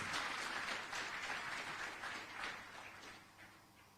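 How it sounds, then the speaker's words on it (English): An audience claps to welcome Cabinet Secretary Rebecca Miano at a Kenyan event on the African Continental Free Trade Area, a steady wash of applause filling all four seconds and easing off slightly toward the end. "Why don't we welcome her with a clap?"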